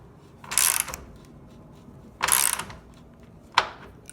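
Wall-hung toilet mounting bolts on a 2x6 carrier being slowly tightened, giving two ratcheting bursts a couple of seconds apart and then one short sharp click, close and fairly quiet with no talking.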